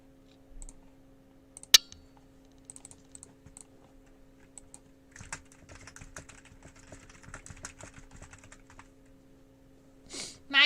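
Scattered keystrokes on a computer keyboard at a drawing desk, sparse single taps early, then a denser run of quick typing in the middle, fairly close and quiet over a steady electrical hum, with a sharp click near the start and a louder bump at the end.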